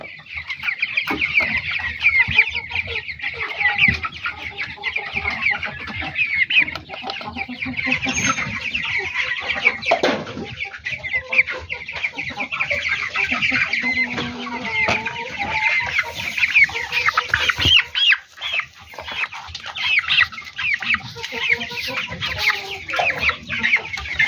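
A flock of broiler chickens on a farm clucks and chatters nonstop, many birds close by and overlapping in busy, uneven calls throughout, with no talk.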